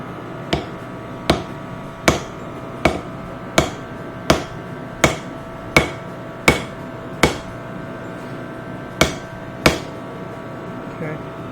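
A hammer taps red-hot steel to set a forge weld, striking about thirteen sharp, evenly spaced metallic blows at a brisk, regular rhythm, close and loud, with no other sound between strikes.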